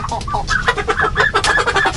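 A naked-neck hen clucks close by in a cold coop, giving a rapid run of short, bright clucks and squawks at a steady rhythm for about two seconds, with no talk over it.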